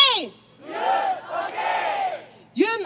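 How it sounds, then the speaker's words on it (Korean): A crowd at a political rally outside the National Election Commission chants a two-beat slogan in unison. Loud bursts of massed shouting come in rhythmic waves, separated by short gaps. "윤 어게인은 청년들이 윤 대통령님을 애타게 부르는 함성입니다"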